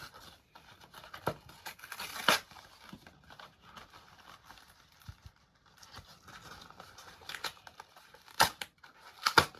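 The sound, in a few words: opening a Yu-Gi-Oh structure deck box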